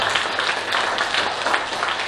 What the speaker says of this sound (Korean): 큰 박수로 감사의 인사를 드려주시면